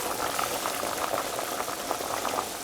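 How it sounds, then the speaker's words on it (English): A pot of cabbage soup at a steady rolling boil, continuous bubbling and gurgling heard close and alone. "It's boiling really well now"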